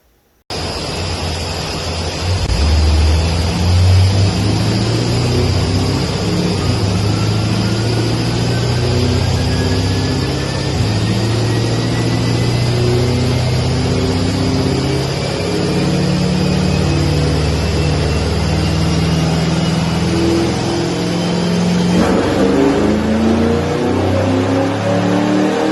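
A 2008 Pontiac G8 GT V8 with bolt-ons, headers and a stock cam roars through a dyno pull on rollers, loud and close, rising steadily in pitch for about twenty seconds before the revs drop off near the end.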